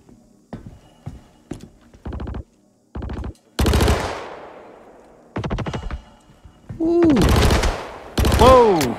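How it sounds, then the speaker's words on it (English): Burst rifle gunfire in Star Citizen rings out as repeated short three-round bursts, loud and close, with longer volleys and ricochet-like whines toward the end. "It's a burst rifle, so every time you click the button, it's three rounds."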